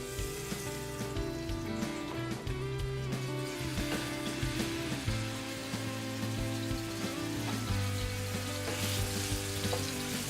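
Pork chops sizzle and crackle steadily in a pan of hot shimmering vegetable oil, a dense, continuous frying hiss with no talking.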